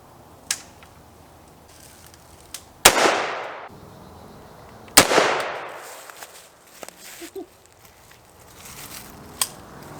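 Outdoors at Oklahoma hunting practice, a rifle fires two sharp, loud shots a couple of seconds apart, each followed by a short decaying tail, with faint handling noises in between.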